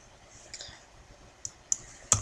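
A few sparse computer keyboard key clicks while a password is typed, quiet and close, with a short burst of louder taps at the end.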